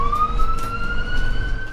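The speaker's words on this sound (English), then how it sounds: "Lights, sirens mark a paramedic's response" A paramedic vehicle's siren wails in a steady rising tone, loud and near, over road noise while responding to a heroin overdose call.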